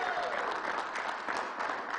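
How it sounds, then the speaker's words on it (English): Audience applause at a press event, a dense, steady clapping from a crowd that fills the short stretch without pause. "Let's give the new grandfather a bigger round of applause."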